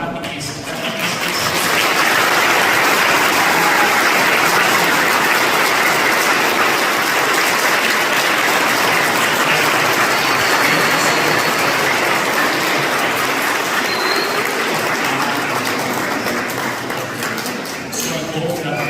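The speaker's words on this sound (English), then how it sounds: "So let us give hands of applause to the catechist" Church congregation applauds the catechists at a first communion, a long dense wash of clapping that swells, holds steady for many seconds, then thins toward the end.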